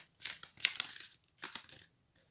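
Oracle cards being shuffled by hand, two short close bursts of papery riffling and sliding with a brief pause between, quiet and without speech.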